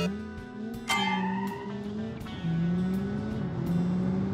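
A video-game car with a 2.2-liter turbocharged inline-four, all-wheel drive and sequential gearbox, droning steadily with pitch stepping down and climbing again between shifts, close and continuous.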